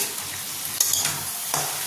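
Crab frying in oil with spices, a dense close sizzle broken by a couple of sharp utensil scrapes as it is stirred.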